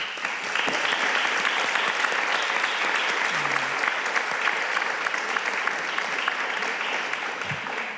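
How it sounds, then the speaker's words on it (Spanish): An audience at a book presentation claps in sustained, dense applause that holds at an even, loud level throughout with no break. "vamos a dar otro grande aplauso."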